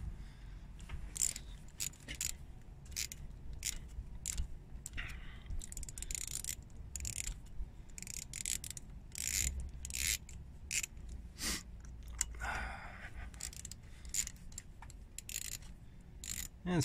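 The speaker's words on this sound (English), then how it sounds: "now it's just a matter of undoing these 4 bolts." Bolts being undone on a Saab 9-5 direct ignition cassette, heard as quiet repeated clicking and ratcheting ticks with scraping metal taps in steady bursts, close by in a hushed room with no talking.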